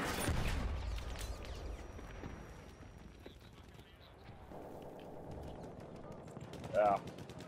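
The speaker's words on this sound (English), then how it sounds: "I'm getting sniped at, bro." Sniper rifle shots in an online shooter game ring out faintly and at a distance as a few sharp cracks, partly buried under background game noise and voices.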